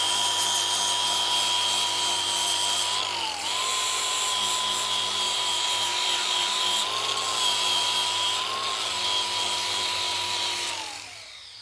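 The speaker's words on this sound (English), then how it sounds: "Hit this little sander, do it a little finer" A small power sander runs steadily on a forged metal dragon head, giving a continuous close whine with a slight dip partway through before it winds down at the end.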